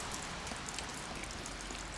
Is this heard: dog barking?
no